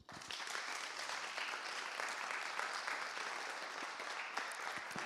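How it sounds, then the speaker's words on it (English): A seated audience applauds for Victor, a steady, fairly quiet wash of many hands clapping throughout, with no voices over it. "Another applause for Victor, please"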